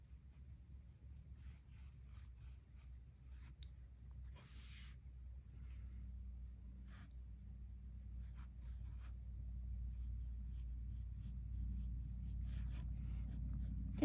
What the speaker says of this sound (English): So next I need my dip pen, and we're gonna write the name Jingle Berry.